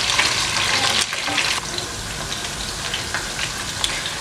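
Meat browns in a pan over a high flame, giving a loud, steady, close sizzle with a few stirring scrapes.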